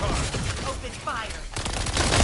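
Rapid gunfire bursts from the shooter video game The First Descendant, sounding as loud, dense continuous fire that carries through the whole stretch with a brief dip midway, while a voice talks over it.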